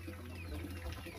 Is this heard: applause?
no